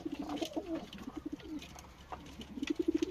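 Pigeons, including kırkanat birds, coo in an evening coop, with soft repeated throaty coos near the microphone and a few faint background chirps.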